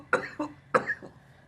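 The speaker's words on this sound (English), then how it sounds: "I'm gonna cough." Two short bursts of coughing, close and fairly quiet, each a quick pair of harsh hacks, with nothing else around them.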